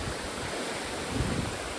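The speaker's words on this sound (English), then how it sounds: "the river's powering away today, the River Wharf." The River Wharf runs high and fast beneath an old stone bridge near Bolton Abbey, a broad steady roar of rushing water with some wind buffeting the microphone and no talking.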